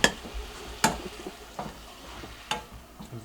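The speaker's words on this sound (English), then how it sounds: "Can you give that ground beef a stir," Ground beef simmering in a pan with peppers and onions, stirred in a few distinct scraping strokes over a soft, steady sizzle, close and fairly quiet with no talking.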